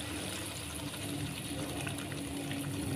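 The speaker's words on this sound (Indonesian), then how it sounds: "Kita masukkan santannya supaya kacangnya matang sempurna." Coconut milk is poured into a pot of red beans for a red bean gulai, a steady soft trickle and splash of liquid filling the pot, faint and continuous throughout.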